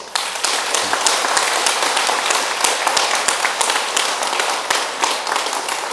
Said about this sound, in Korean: 그 군인들한테 박수 한번 보내세요